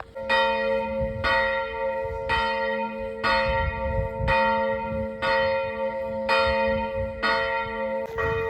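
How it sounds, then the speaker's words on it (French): Church bells ring in a steady, even rhythm, about one strike per second, each tone lingering and overlapping the next. "Que nos cloches continuent de sonner jusqu'à la fin des temps."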